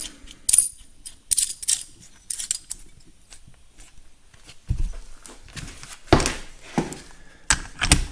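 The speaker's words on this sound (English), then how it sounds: "Thread the nut down." A nut threaded down by hand onto a Farmall tractor governor part, giving scattered close metallic clinks, taps and small rattles, a few louder knocks near the end, with no talk.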